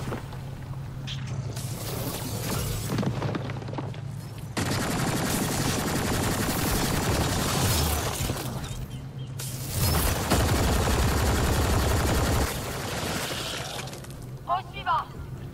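Gunfire from a shooter firing in the sci-fi game Mass Effect Andromeda, dense bursts and volleys crackling through long stretches amid game effects, with someone talking over much of it.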